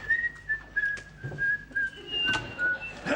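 Two people whistling a tune together, a clear sustained melody with short pauses between phrases, heard up close in a quiet indoor scene with faint background shuffling.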